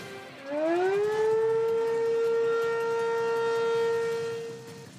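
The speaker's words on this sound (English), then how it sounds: "What's different about Hennepin County's severe weather sirens?" A Hennepin County severe weather civil defense siren winds up from low to a steady, piercing wail and holds for several seconds before starting to fade, heard from a distance.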